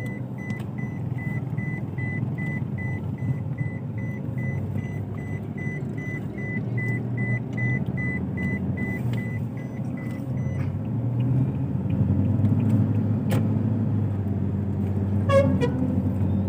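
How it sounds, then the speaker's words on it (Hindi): Heavy road traffic in Tando Mohammad Khan rumbles steadily, and repeated car horns toot over the engine drone, with a burst of rapid beeping near the end. "बहुत ज़्यादा ट्रैफिक है"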